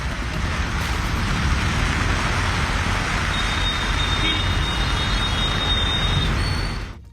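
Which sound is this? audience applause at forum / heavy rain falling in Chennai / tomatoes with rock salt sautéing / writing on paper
heavy rain falling in Chennai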